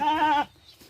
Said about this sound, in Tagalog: Ito ay inahanap po yung kanyang anak. Kaya nagme-me siya.